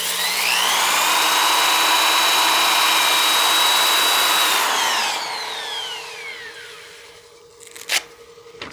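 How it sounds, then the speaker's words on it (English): Spinning wooden utility box on a woodturning lathe, with a high whine and steady abrasive hiss from hand sanding that fades as the lathe spins down, followed by a few faint knocks. "We'll sand the bead as well by hand."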